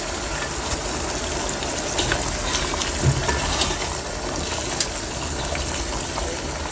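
Tomato paste is poured into a pot of Kashmiri mutton rogan josh, and a loud, continuous sizzle and frying hiss follows, with a few small pops and splashes along the way.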